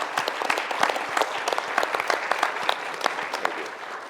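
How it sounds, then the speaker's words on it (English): Audience applause at a C40 cities conference session, with distinct individual claps audible within a moderately loud, sustained round. "So I think that's worth a round of applause for Qingdao."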